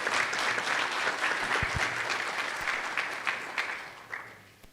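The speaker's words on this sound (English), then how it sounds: "Another round of applause for the Honorable Minister." An audience at an event on vaccine equity for Africa in Rwanda applauds a minister's speech with steady, moderately distant clapping that gradually thins and fades out.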